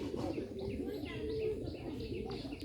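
Bombay pigeons coo in a steady, murmuring run close by, their low throaty calls layered under a faint voice talking in the background.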